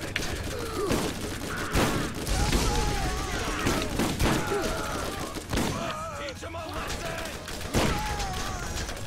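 Rapid bursts of gunfire and explosions from the video game Borderlands fill the clip, loud and dense throughout, with a voice talking over the combat.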